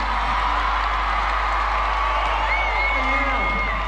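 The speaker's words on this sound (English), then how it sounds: "Give yourselves a big clap." Large outdoor crowd at the Carols in the Domain Christmas concert claps and cheers, a broad continuous wash of applause with scattered whoops, while speech carries over the top.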